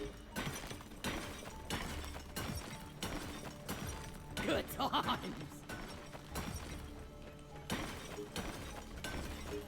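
A core infuser being used in the video game Deep Rock Galactic gives a burst of glassy, shattering crackles near the middle, over steady game noise, with a voice speaking briefly.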